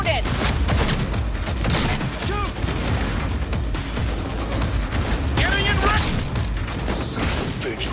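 Dense bursts of automatic gunfire and explosions fill a Cyberpunk 2077 firefight, loud and continuous throughout, with shouted voices and clattering impacts mixed in.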